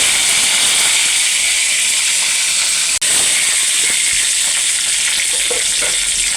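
Curry leaves, mustard seeds and urad dal sizzle in hot oil, a loud, close, steady hiss and crackle of frying with spitting bursts that holds unbroken except for one momentary gap, and no one speaks.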